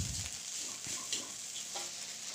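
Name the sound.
stir-frying nasi goreng with anchovies in a pan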